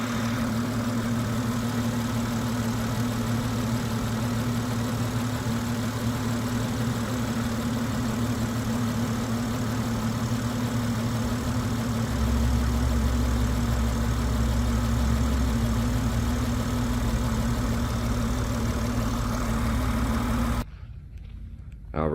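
A BMW 740i xDrive engine in sport mode at about 80% throttle, a steady low drone that holds for around twenty seconds with a deeper swell partway through before cutting off near the end.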